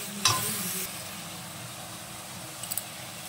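Tomatoes frying in a pan with salt and turmeric give a steady soft sizzle throughout, with a brief burst of stirring near the start and a few small clinks toward the end.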